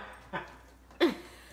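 A small dog whimpers twice indoors: a short whine, then a louder, higher one a moment later, with faint breathy sounds between them and no talking.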